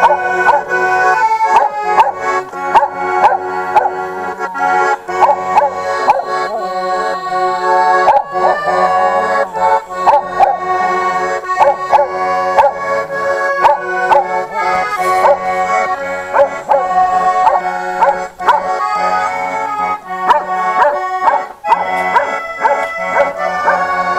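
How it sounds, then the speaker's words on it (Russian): A dog howls along with loud music at a base camp in Altai in May, its yips and howls blending into the steady song throughout. "Собачка подпевает."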